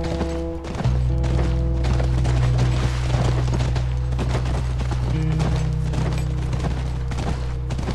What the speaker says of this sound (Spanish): Es que mira, él cabalga más rápido